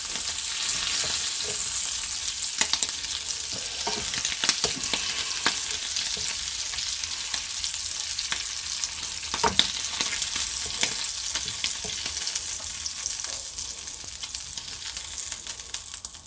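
Scallop corals frying in a pan for a creamy scallop and shrimp cassolette, a steady bright sizzle with occasional stirring scrapes and small pops, close and continuous with no voices.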